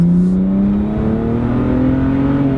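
A car engine with a deep, throaty aftermarket exhaust revs and holds a steady low drone, its pitch rising slightly, loud and close.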